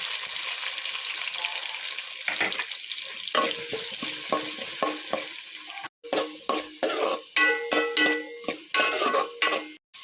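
Onions hit hot oil in a pan already holding softened ginger and garlic, sizzling loudly while a spoon scrapes and clatters against the metal in repeated strokes.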